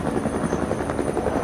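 A navy helicopter runs on a ship of the Royal Australian Navy, its rotor producing a loud, close, rapid rhythmic chopping over a steady engine whine, with no voices.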